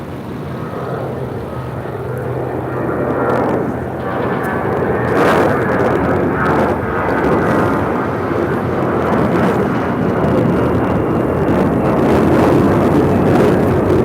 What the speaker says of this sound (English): That was American Airlines 990 taking off to Atlanta on an A321.